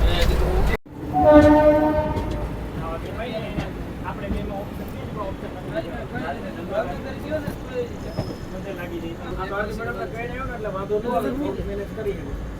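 The Gandhinagar Intercity Express rolls into Maliya Hatina station with a loud horn blast near the start, followed by steady rumbling and clatter of the coaches while someone talks over it.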